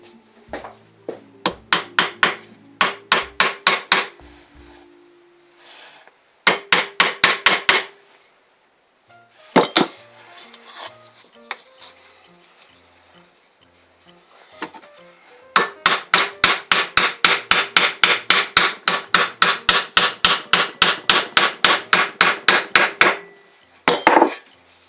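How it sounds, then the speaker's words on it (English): Hammer striking a wooden dowel while building a seed packet tray: bursts of sharp, rhythmic taps, close and loud, with short pauses between runs and a long fast series near the end. "Grab the hammer once again."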